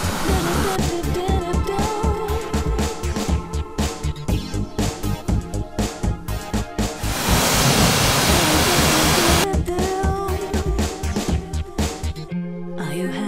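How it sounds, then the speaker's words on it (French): A pressure washer rinses a cleaning product off greasy mechanical parts in a burst of loud hissing spray lasting a few seconds, set within rhythmic background music. "Brossez éventuellement, puis rincez avec pression."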